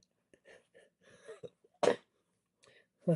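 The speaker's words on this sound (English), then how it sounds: "Oh, my goodness, a little cough." A single small cough in a room with cats and a baby, a short rough burst standing out between faint murmurs and soft movement sounds.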